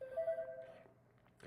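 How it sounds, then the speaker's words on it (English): Phone ringing with a short electronic tone that fades out, followed by a faint rustle, heard indoors without talking. "Sorry for my phone going off"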